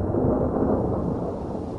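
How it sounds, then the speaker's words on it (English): A heavy thunder crash rolls in a loud, continuous roar that fades slightly toward the end, heard alone with no voices. "That night, thunder and lightning crashed over Gordian."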